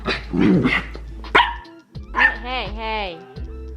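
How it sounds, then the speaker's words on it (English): A small dog barks and yips loudly and close by, a few sharp barks followed by drawn-out whiny howling yelps, with a person talking at the start. "Can't get what she wants, barks."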